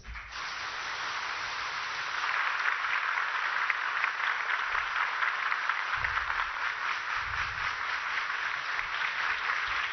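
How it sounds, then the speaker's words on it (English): Audience applause welcoming the President of India at the Rashtriya Military School platinum jubilee celebrations, a steady, sustained wash of clapping building slightly after the first two seconds and continuing throughout, with no talk. "with a huge round of applause"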